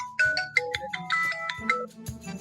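Mobile phone ringing in a Kannada comedy sketch, a bright electronic ringtone melody of quick tones, fairly close and heard alone.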